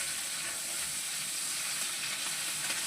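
Prawns and spices frying in a pan, a steady close sizzle with hissing crackle that runs without a break, no voices.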